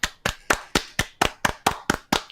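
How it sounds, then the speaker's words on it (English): A single pair of hands claps nine times in an even, steady rhythm, close and crisp, as a round of applause for the San Francisco Shock esports team. "Can we give a round of applause for San Francisco Shock for winning this award?"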